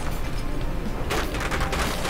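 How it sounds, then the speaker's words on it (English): A loud explosion erupts in the naval combat game From the Depths, a burst of crackling, gunfire-like blasts swelling midway and rolling on to the end with no talk over it. "Something just exploded."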